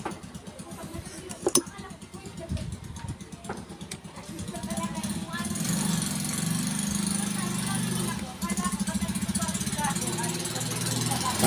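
A noisy electric fan motor being repaired runs with a steady low hum and rattling drone, rising louder after a few seconds of clicking and handling, then continuing loud and even to the end.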